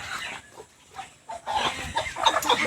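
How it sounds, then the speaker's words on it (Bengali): Large local village hens clucking in short, fairly close bursts that grow busier toward the end, with no talk over them. "কি বিশাল বিশাল দেশি মুরগি।"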